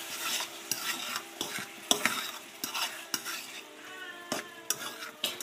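A spoon stirs tomato sauce into chilli mac in a pan, giving soft scraping and clinking taps in an irregular rhythm over a faint steady sizzle, close and fairly quiet.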